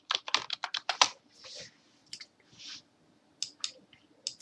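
Quick bursts of keystrokes on a computer keyboard entering a password, close and crisp clicks in rapid clusters separated by brief pauses, with a few softer rustles in between.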